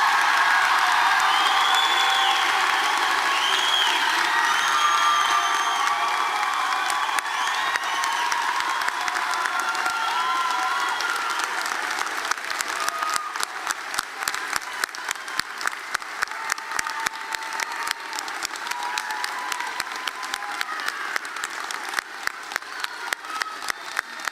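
Sustained applause from a college commencement audience cheering graduates, a dense wash of clapping with scattered whoops that thins over time into more distinct individual claps near the end.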